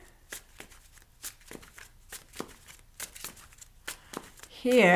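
Several crisp riffling bursts of cards being shuffled, repeating roughly every second, with a louder tonal sound cutting in at the very end.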